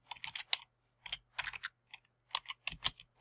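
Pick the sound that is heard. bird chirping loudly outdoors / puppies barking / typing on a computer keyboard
typing on a computer keyboard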